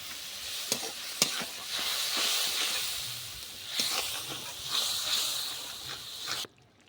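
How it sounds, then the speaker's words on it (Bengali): Spice paste sizzling and frying in a pan over low heat, with a steady close hiss broken by sharp scraping stir clicks; the sound cuts off abruptly near the end. "হালকা আঁচেতে মশলাটা কষে নেব।"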